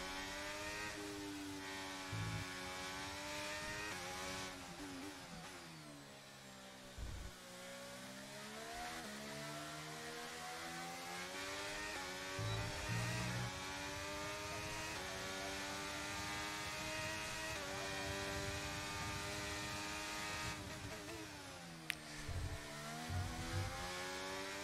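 In the F1 23 game, a Formula 1 car's engine howls around the track, its pitch climbing and dropping through repeated gear changes and corners, a loud, sustained, high-revving whine with brief dips while shifting.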